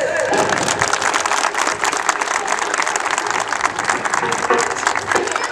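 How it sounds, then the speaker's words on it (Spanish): Dense, loud crowd applause at a village fiesta for a street-paving inauguration, sustained clapping with some cheering that holds steady throughout. "a la cuenta de tres quiero escuchar no uno, sino muchos aplausos"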